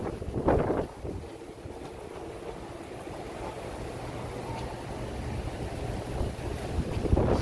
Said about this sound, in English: Wind gusts like potential tornado.